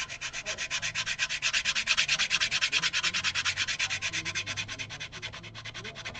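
A Dremel rotary tool sands the bridge surface of a Gibson Chet Atkins acoustic guitar, giving a steady, close, rapidly pulsing abrasive whir that holds throughout with no talk.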